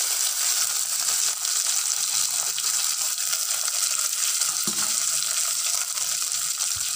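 Small shallots and torn dried red chillies frying in hot oil for a Parai fish kulambu, giving a steady, close, dense sizzle with faint stirring scrapes and no talking.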